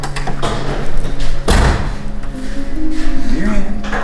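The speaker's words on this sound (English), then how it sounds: "All right, shut the door." A single heavy thud of a car door shutting on a 1981 Camaro Z-28, loud and close, sharp midway through, with people talking around it and a low hum underneath.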